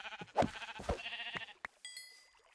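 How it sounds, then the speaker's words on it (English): Sheep bleat in the Minecraft video game. Several short, close bleats come in uneven bursts, followed by a brief higher chime-like tone. "Oh, sheep here."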